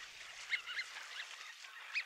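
Canada geese calling in a wetland landscape, a few short honks spaced across two seconds, moderately distant and fairly faint over a soft background hiss.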